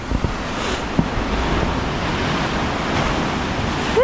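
Waves washing up on a shore in Vietnam as the tide comes in, a steady close wash of surf mixed with wind noise on the microphone, without talk.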